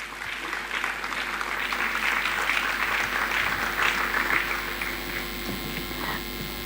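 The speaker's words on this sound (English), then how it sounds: "can we welcome her with a big round of applause" An audience at an education talk gives a sustained round of applause to welcome a guest, a steady dense clatter of many hands that thins out toward the end over a faint electrical hum.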